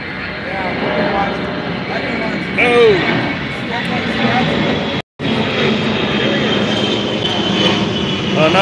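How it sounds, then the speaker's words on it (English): An airplane flies overhead, its loud steady engine drone swelling and passing, with people talking close by over the noise. "Oh! Another plane."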